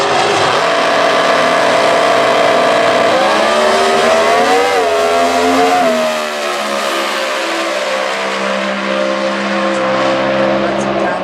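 A drag racing car with a clutch and planetary transmission launches, its engine roaring and revving loudly and continuously at the 2015 US Nationals, with a crowd and announcer faintly mixed in, pitch sweeping as it accelerates.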